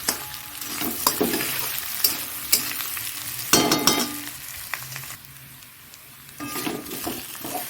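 Mutton sizzles in a hot pan while a utensil scrapes and clatters against it in irregular bursts, close and fairly loud.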